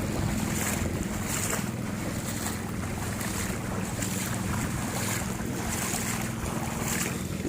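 Fast-flowing flood water current on a road near Barangay Santo Niño between Malolos and Manila, a continuous loud rushing wash with gusty wind buffeting the microphone, no voices.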